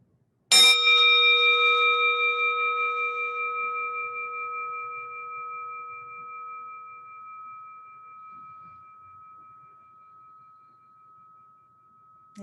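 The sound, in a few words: chime ringing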